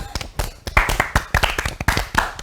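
A small group claps after a correct quiz answer during an exam-preparation session, uneven sharp hand claps in a loose rhythm, close and fairly loud, with a voice briefly heard.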